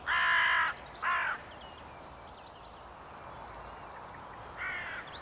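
Hooded crows caw harshly: two loud, close calls in quick succession, then a quieter caw a few seconds later over steady background hiss.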